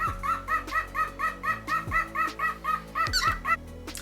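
A pet cockatiel sings a run of repeated bright, chirpy whistled notes in a steady bouncing rhythm, close and clear, with a short pause before the phrase resumes.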